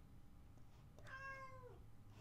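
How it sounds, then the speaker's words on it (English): A cat gives one clear meow, rising and then sliding down, fairly close over a quiet room hum, heard alone with no talk. "My cat agrees"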